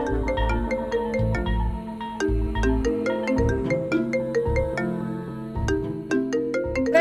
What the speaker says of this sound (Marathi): रणजित भाऊजींचा फोन येतोय